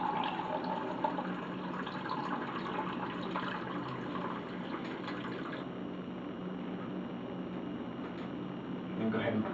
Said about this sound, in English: go ahead and drain a little bit of this out here